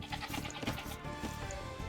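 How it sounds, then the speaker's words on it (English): Sheep bleating in the Age of Empires II video game, several short bleats in quick succession over a busy game soundscape, fairly faint with no voice on top. "It's always nice when you pinch your enemy's scouting sheep."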